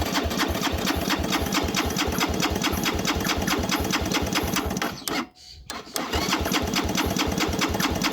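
A Suzuki GN125H motorcycle engine cranking with the throttle wide open during a compression test, a fast steady chugging pulse, loud and close, with one brief pause before it resumes.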